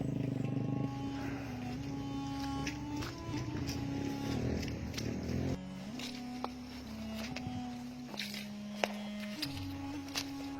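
Habal-habal passenger motorcycles labor uphill on a rough rural road in Davao de Oro, Philippines, their engines droning close and continuous, pitch stepping up and down as they strain, with small knocks and rattles over the top.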